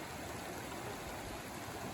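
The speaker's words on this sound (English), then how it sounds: "we are still following a little creek up" Small, clear mountain creek in Colorado flowing along a trail, a soft, steady wash of running water heard faintly and evenly, with no voices.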